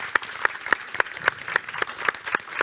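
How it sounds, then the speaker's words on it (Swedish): An audience at a Swedish crime-fiction festival bursts into applause, a steady patter of many hands clapping that carries on without letting up. "Stor applåd till allihopa."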